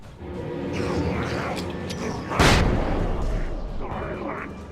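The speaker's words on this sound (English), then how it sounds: "Told you the flashbang grenades are fucking awesome." Flashbang grenade blasts in the video game Alan Wake, a sharp, loud explosive burst midway through rumbling, echoing game-combat noise, with a voice talking over it.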